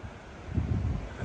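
Wind blows outside a bothy on a dark, wet night, a low rumbling rush that swells and eases against the microphone, with no voices.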